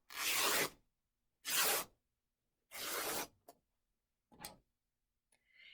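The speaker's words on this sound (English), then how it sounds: "So just kind of decide on the width and snip and tear." Rayon remnant fabric snipped and torn into strips by hand: three long, rasping rips in a steady rhythm, then a couple of shorter tears and small snips, close and clear against silence.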